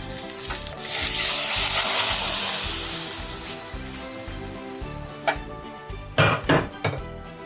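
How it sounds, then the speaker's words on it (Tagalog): Coconut milk for Bicolano laing bubbling in a pot while being stirred steadily, with sizzling and scraping of a utensil against the pot, then a few sharp clinks of metal toward the end. "Ito ay haluin ng haluin."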